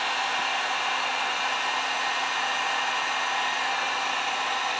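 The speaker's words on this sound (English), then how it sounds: "I'm going to take the heat gun." Heat gun blowing steadily to dry paint on a piece of pottery, a constant close-up broadband whoosh that holds unchanged throughout with no voices.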